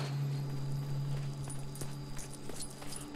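A cow in LEGO Jurassic World walks with a steady hoof clip-clop, soft repeated knocks over light game ambience and a low hum.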